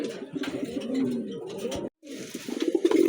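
Pigeons coo in low, throaty, rolling calls close by, with a brief pause in the middle before the cooing resumes.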